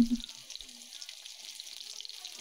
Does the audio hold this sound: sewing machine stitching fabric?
no